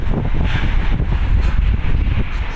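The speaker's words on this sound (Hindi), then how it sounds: "बड़ी तेज़ हवा चलती पई है" Strong wind blows across a hotel rooftop in Najaf, Iraq, during stormy rainy weather, a loud steady rumbling buffet against the microphone with gusty fluctuations throughout.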